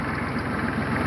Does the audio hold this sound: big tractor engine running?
yes